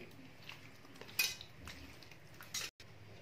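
A spoon clinks against a dish while tamarind and turmeric are mixed into a marinade for fish, giving a few soft, close scrapes and two brighter taps over quiet kitchen room tone.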